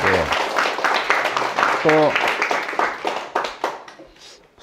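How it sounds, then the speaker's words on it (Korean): Audience clapping at a winter beekeeping-school lecture in a church setting, a dense burst of applause running the whole moment beneath a voice speaking over it. "우리 한번 박수를 한번 쳐줍시다"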